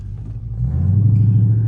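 A Dodge Charger with a loud aftermarket exhaust rumbles deep and close while driving in evening traffic, the low drone swelling as the engine pulls harder partway through.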